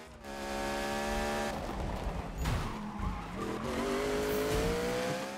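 A car drifting in the Need For Speed racing game, with a loud, sustained engine drone and squealing tires rising and shifting in pitch throughout, no talk.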